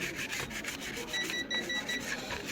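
A computer RAM module's contacts being rubbed clean, a quick series of soft, rhythmic scrubbing strokes at close range, with no talking.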